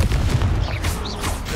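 Bombarda and Confringo spell blasts in Hogwarts Legacy, a dense, loud rush of booming impacts with whistling sweeps layered over a continuous low rumble.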